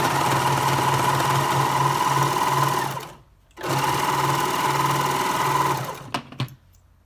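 An Elna Lock Pro 5 DC overlocker runs a 4-thread overlock stitch on stretch knit, with a steady close mechanical whir that stops briefly, resumes, then ends in a few short clicks.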